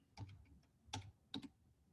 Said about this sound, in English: if I was to type in another function